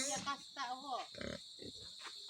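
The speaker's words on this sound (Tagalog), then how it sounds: "yung biik din ni Papa. Kulay itim." A small black piglet grunts and snuffles close by in short, soft bursts, with a person speaking quietly between the noises.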